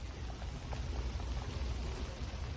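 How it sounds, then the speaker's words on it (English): Steady rain falling outdoors during an ice storm, a dense continuous patter with low rumbling wash, constant and fairly close with no voices. "I'm definitely getting rained on a lot now."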